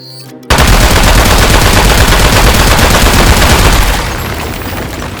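Dense, sustained automatic gunfire in the Aperture Desk Job video game, rounds hammering metal in a loud rapid stream for about three and a half seconds before easing to a lower roar.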